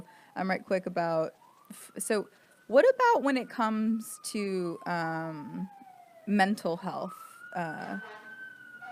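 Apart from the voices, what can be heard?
emergency vehicle sirens passing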